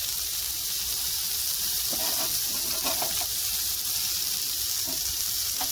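Smash burgers topped with cheese sizzle loudly on a hot griddle in an RV kitchen after being flipped, a steady close frying hiss with faint scraping.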